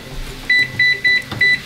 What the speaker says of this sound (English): We'll set a timer